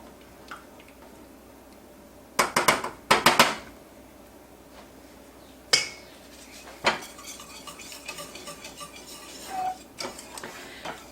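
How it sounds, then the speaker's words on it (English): A spatula stirs melting chocolate in a pot, producing quiet scraping and stirring interrupted by a few sharp clattering knocks against the pot, with no voices. "And I'm going to stir with my spatula for a little while until we get more of the clumps out,"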